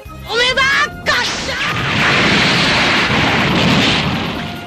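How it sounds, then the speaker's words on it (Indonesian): A loud, sustained anime explosion erupts after a brief stretch of whooshing sweeps, rumbling and crackling for several seconds before slowly fading as a laboratory is destroyed. "Alhasil terjadi ledakan yang sangat besar di tempat itu."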